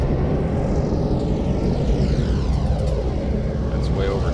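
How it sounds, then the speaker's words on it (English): A steady, loud rumbling engine drone with a rising mechanical whine, a train starting up in the Railworks 3 train simulator game, continues throughout. "So, let's start the train up."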